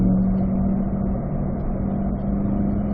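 A car on a race track drones steadily, its engine a loud, even hum that holds at a constant pitch throughout with no other sounds over it.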